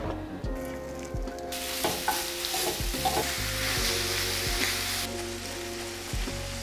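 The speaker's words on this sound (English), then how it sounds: "we're gonna get started on cooking our sausage" Sausage sizzling and frying steadily in a pan on the stovetop, a continuous crackle with occasional scrapes and stirs of a utensil, close and fairly loud, with no talking.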